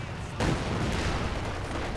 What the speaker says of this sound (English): Katyusha barrage coming in though